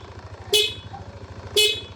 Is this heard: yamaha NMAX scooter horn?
yes